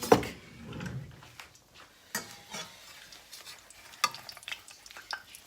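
Fish cakes cook in a pan with a frying sizzle, broken by irregular stirring and scraping and several sharp knocks of utensils against the pan.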